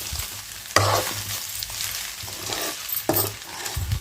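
Spicy Andhra-style chicken fries and sizzles steadily in a pan, with loud bursts of stirring and scraping at intervals, close up and without talk.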